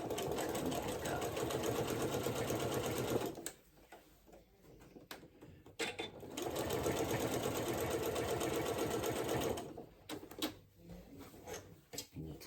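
A sewing machine stitches a braided twist placemat in two long, steady mechanical runs of rapid ticking, separated by a quieter pause filled with handling sounds and faint talk.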